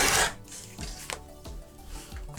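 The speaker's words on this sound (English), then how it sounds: "I am just going to trim up my table runner" Trimming the edges of a freshly stitched, quilted Thanksgiving table runner made from scrap fabric, giving a few rasping cuts and scrapes at close range with no talking.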